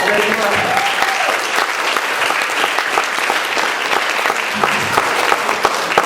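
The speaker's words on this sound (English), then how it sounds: "Give her a big round of applause." Loud, sustained applause from an audience, dense steady clapping filling the whole stretch without pause.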